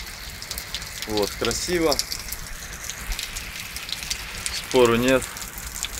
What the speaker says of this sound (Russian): Кисло все, дождь идет.